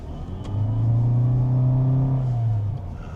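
A Toyota Vios GRS hybrid car accelerates on an indoor test-drive course, its engine rising in a loud, close, steady drone that swells and then eases off, with no talking.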